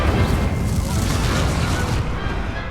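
Incendio fire spell cast during a duel in the Hogwarts Legacy video game, a dense roaring, booming burst of flame that stays loud and full throughout before easing slightly at the end.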